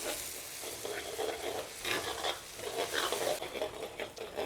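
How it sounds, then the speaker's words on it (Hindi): A spoon stirs spices through a frying pan of cooked onion and yogurt for Rajasthani pithod saag, with a steady sizzle and scraping strokes that are continuous and close. "मसालो डाल और एक बार चमचो हला लूँ ताकि आपनो वो दही फाटे नहीं।"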